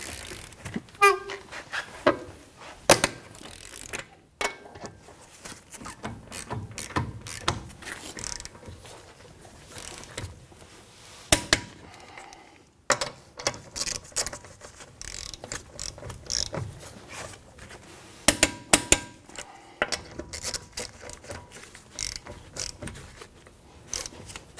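Lug nuts on a 2007-2013 Acura MDX being tightened with a torque wrench in a star pattern to 94 foot-pounds: bursts of close, sharp ratcheting clicks separated by short pauses and handling clatter.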